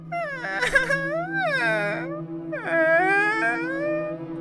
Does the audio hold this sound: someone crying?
yes